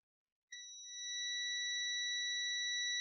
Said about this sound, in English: as you can hear from the buzzing on the multimeter that's on continuity